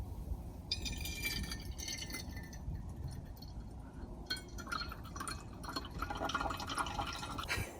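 Coffee is poured into a cup inside a Ford Transit Custom Nugget campervan, a close, quiet trickling pour with rising liquid notes over several seconds and no voices.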